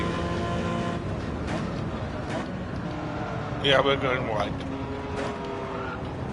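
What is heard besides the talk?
car engine and skidding noises in video game Gran Turismo 7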